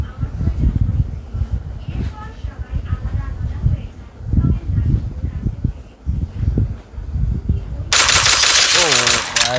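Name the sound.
gunfire and headshots in Free Fire video game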